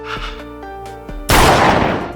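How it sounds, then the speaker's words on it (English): A single loud gunshot rings out in a TV drama scene, a sharp blast whose noisy decay fills the rest of the moment after a quieter lead-in of low tones. "With a gunshot, the third season ends."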